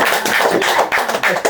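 Children clap their hands in a classroom learning activity, a quick run of sharp, close claps in an irregular rhythm lasting about a second and a half, with no talk over them.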